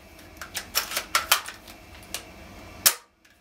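A VSR10 airsoft sniper rifle, already upgraded, is cocked and fired: a run of sharp mechanical clacks and clicks leads to one loud, crisp snap near the end, followed by a brief faint click, with no voices.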